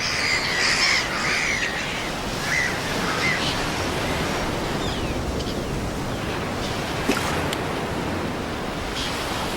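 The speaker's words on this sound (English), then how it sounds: "Despite the annoying seagulls" Seagulls squawking near a white-tailed eagle: a few harsh gull calls in the first seconds over a steady wash of wind or surf, then fainter scattered cries, with no talk.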